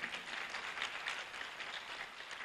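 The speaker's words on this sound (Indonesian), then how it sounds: "Tepuk tangan lagi untuk itu." Audience applause at a university speech, a steady wash of many hands clapping together, fairly soft and distant for the whole stretch with no voices over it.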